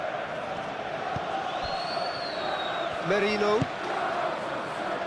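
Stadium crowd in an eFootball PES 21 Arsenal versus Chelsea Premier League match: a steady, fairly distant roar of fans throughout, with a brief whistle and a commentator's voice over it.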